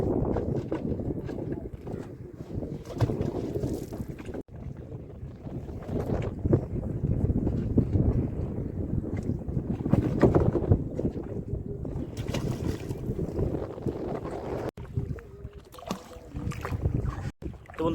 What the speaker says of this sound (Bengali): আর আজকে প্রচণ্ড হাওয়া